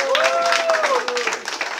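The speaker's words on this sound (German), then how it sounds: "nochmal einen herzlichen Applaus für die Frau Walter" A quiz-show audience applauds, brisk dense clapping throughout, with a voice speaking over it.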